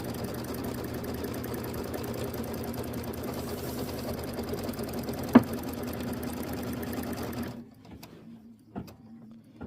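A computerized embroidery machine sews a placement stitch for quilt batting, a steady fast mechanical rattle and whir running close and continuous before it stops abruptly, leaving faint room noise with a few soft clicks.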